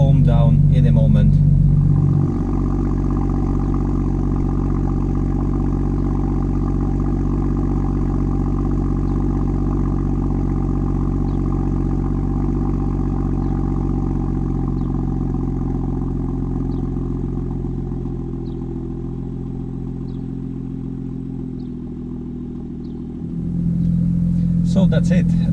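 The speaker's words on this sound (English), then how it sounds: "That was the cold start in my BMW M2." A stock BMW M2 F87 with the N55 engine and factory exhaust cold-starts with a loud opening flare, then settles into a steady, deep idle drone that gradually quietens before a brief rise at the end.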